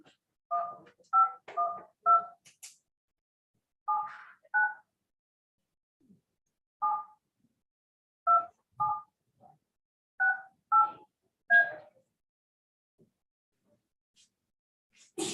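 Telephone keypad tones dial a caller into a Zoom meeting for an appraisal review board hearing, clear paired beeps in short irregular groups separated by silent gaps.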